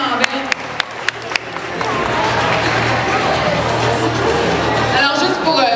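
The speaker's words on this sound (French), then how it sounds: "Une bonne main d'applaudissement, Frédéric" An audience at a charity head-shaving event breaks into sustained, loud applause. A few sharp claps come first, then a dense wash of clapping fills the room, with a voice briefly heard near the start.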